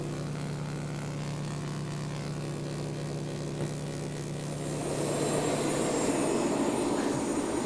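Steady, loud droning engine of an aircraft in flight at 2,000 feet before a skydive, a constant low hum with broadband roar that swells slightly louder midway, with no talk.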